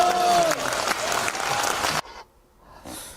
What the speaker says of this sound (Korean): 박수를 막 치고 그랬네요